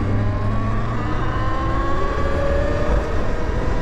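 A Talaria electric dirt bike accelerates at full throttle on a road, a loud steady rush of motor whine and wind noise rising in pitch throughout.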